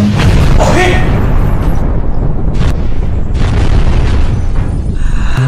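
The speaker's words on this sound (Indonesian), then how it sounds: "Bahaya segera meledak." Loud, deep explosion booms that fill the space and then break into noisy rumbling bursts and crackles, with brief voices mixed in between them.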